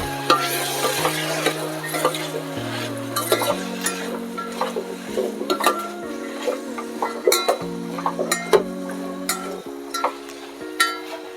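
Sliced onion being stirred as it fries in a pan for Kerala-style varutharacha sambar, a sizzle under frequent scraping and clinking of a spoon against the pan, close and steady.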